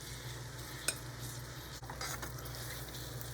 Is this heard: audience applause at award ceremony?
no